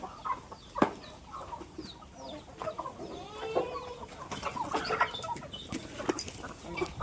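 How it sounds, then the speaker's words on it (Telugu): Brooding hens cluck softly and repeatedly nearby on a poultry farm, with occasional louder squawks and a rooster-like call among the birds, no talking. "ఇట్లా పొదుగుతూ పొదిగే కోళ్ళు ఇక్కడ ఉన్నాయి"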